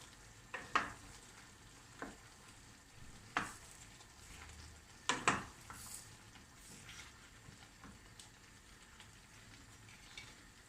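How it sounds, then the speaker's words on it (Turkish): A spoon stirs bulgur pilaf in a pan, scraping in a few separate close strokes over a quiet background. "Şöyle yemeğimi karıştırıyorum."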